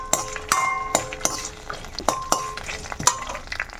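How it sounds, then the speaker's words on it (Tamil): Curry leaves and tomato fry in a pan for tomato pachadi, stirred with a metal spoon that clinks sharply against the pan in a steady, near rhythm over a soft sizzle. "கொஞ்சோண்டு கறி லீவ்ஸ், ஃப்ரெண்ட்ஸ் இது வந்து ஒரு 2 மினிட்ஸ் வந்து நல்லா ஃப்ரை பண்ணிக்கோங்க"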